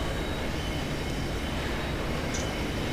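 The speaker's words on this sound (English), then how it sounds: "Evacuate the blue tram before it crashes." A runaway blue tram rumbles along the rails in F.E.A.R. 2, a steady, dense roar of wheels and carriage noise holding alone throughout.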